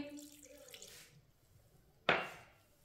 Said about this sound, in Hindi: थोड़ा सा पानी डाल लेंगे,